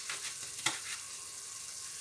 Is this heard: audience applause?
no